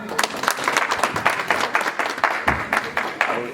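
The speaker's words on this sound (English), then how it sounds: "Y'all give me a big hand clap." An audience of elders at a community gathering applauding a board member's introduction with a short, lively burst of clapping, fairly close and continuous.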